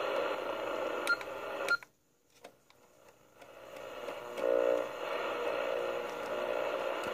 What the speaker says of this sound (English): You hear the static and everything.